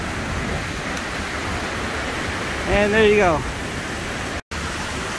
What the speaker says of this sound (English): And here are just the beautiful waterfalls.